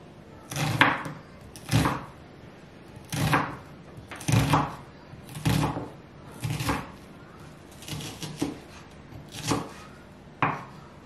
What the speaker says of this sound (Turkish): Soğanlarımı gösterdiğim şekilde ve kalınlıkta doğruyorum.